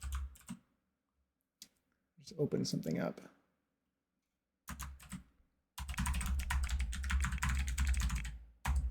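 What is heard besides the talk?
typing on a computer keyboard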